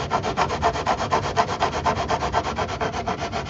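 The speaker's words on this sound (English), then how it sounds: "I'm using the coarse paper on my quicksand hand sander." Steady rhythmic rasping of a hand sander running coarse sandpaper across wood, close and loud, with regular back-and-forth strokes and no voices.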